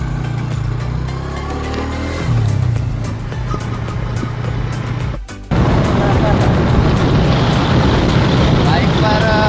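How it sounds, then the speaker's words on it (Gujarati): A Yamaha R15 sport motorcycle ridden on a road near Waghai in the Dang, its engine humming steadily and then rising into louder wind-buffeted roar after a brief dip, close and continuous. "આજે અમે ભાઈ જોડે એક સરસ મજાની બાઇક છે અને બાઇકની સવારી કરવા જઈએ છીએ R15."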